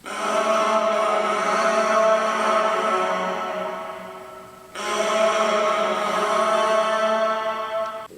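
Heavily reverberated vocal with reverb mix at 100% wet, sounding washed out and distant, sustained tones blurring into a long ambient tail, with a fresh swell partway through.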